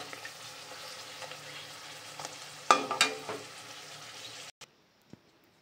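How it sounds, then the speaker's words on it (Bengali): Luchi deep-frying in hot oil, a continuous bubbling sizzle with a burst of louder crackles and spatters partway through, then cutting abruptly to near silence. "আমার ফুলকো ফুলকো লুচি এখানে ভাজা হচ্ছে"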